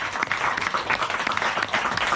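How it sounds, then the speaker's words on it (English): Applause from a Kilimanjaro world record team, a dense, steady patter of many hands clapping at close range for about two seconds. "So give yourselves a massive round of applause for that."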